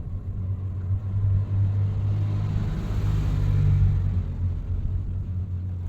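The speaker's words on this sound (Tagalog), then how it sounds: "Daming sasakyan dumadaan ngayon." Steady stream of cars rolling past on a nearby road, a continuous loud low rumble with engines swelling and fading as vehicles go by, no talking.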